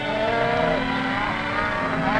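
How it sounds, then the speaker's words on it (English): Cattle being rounded up on a western range for railroad shipment moo in a long, drawn-out low call, loud and close, over a continuous background hum with no speech. "The cattle are first rounded up."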